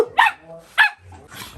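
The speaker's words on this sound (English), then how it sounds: "Stop barking, you're gonna shed." Small poodles barking indoors at home, two sharp close barks about half a second apart followed by a softer whimpering yip, with no one talking over them.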